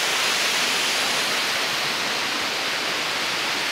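Waterfall water rushes in a steady, loud, unbroken roar with no breaks or voices.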